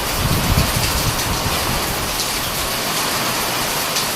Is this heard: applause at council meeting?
no